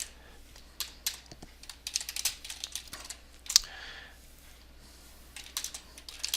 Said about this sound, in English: I'll go ahead and type in something like